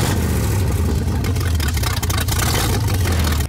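A hot rod engine runs at a street rod cruise in Geneseo, Kansas, with a loud, close, steady low rumble that holds throughout before cutting off abruptly at the end.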